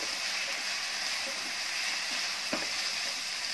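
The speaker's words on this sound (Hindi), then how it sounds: "अच्छे से स्टर करेंगे, सोया सॉस भी डाल देंगे साथ में," Mushroom fried rice with soy sauce being stir-fried in a pan, giving a steady, moderately loud sizzle throughout with a brief scrape or clatter near the end and no talking.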